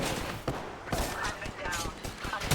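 Rapid gunfire cracks repeatedly in a firefight in the Apex Legends battle royale game, with bursts of shots mixed among other game sounds and some talk over them.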